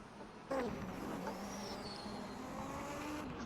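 Engines of 1988 Formula One cars at the Detroit Grand Prix qualifying whine through the final chicane, a sharp rise then a steady, fairly distant high-pitched drone with shifting tones.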